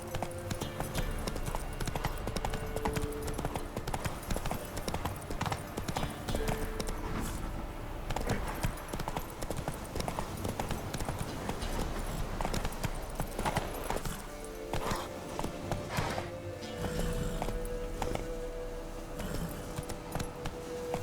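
A horse's hooves clatter in a steady, quick clip-clop gallop in The Witcher 3, continuous and fairly faint throughout, with a brief snort or whinny possible and no clear talk.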